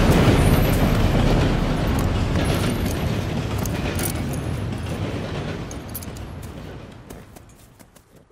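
A train in the Red Dead Redemption 2 video game rumbles loudly and steadily, with dense low mechanical roar and rattling that slowly fades over several seconds.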